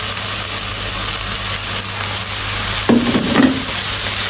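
Sliced shallots and garlic hit a hot oiled pan for sambal goreng hati, a sudden sizzle rising over steady background hiss, followed by stirring scrapes for about half a second.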